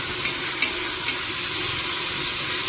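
Tomatoes fry in hot oil with biryani masala for mutton biryani, a steady, loud, close sizzle with faint stirring clicks over it.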